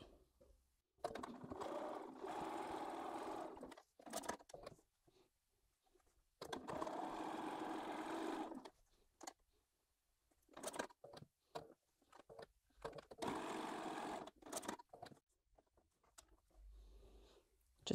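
Sewing machine stitching a quarter-inch seam to join side pieces on white-on-white flower pot fabric, running in several close, steady bursts separated by short pauses and quiet handling.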